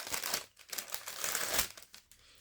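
Paper crinkling and rustling as a small item is wrapped back up, a run of close, dense crackles with brief pauses and no talk.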